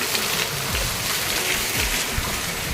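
Heavy rain pours down beside a roadside in the morning, a dense, steady hiss of water that fills the scene continuously and loudly with no voices.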